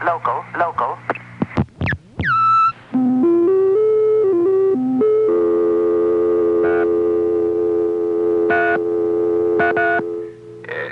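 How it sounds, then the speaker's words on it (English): A telephone line gives out a steady dial tone of held electronic pitches that runs for several seconds, with brief speech and short bursts of other sounds breaking over it. "Can't break the dial tone."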